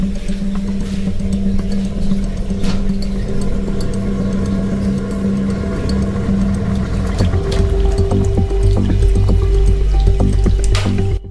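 Water pumped through a hose up into a homemade fountain built on top of an aquarium, giving a steady dripping, gurgling flow with squishy bubbling that runs continuously throughout and swells slightly louder toward the end.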